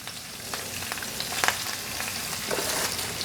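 Fresh spinach hits a hot pan for Italian-style cooking, giving a steady close sizzle and crackle with scattered sharper pops and light rustles of leaves settling, no voices over it.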